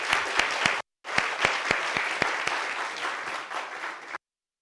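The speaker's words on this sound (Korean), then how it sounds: "우리 모두를 위해 박수하겠습니다." A church congregation applauds together at a Christmas Day service, a dense burst of clapping that breaks off briefly, resumes strongly for several seconds, then stops abruptly.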